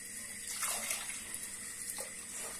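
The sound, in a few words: water being poured for bulgur pilaf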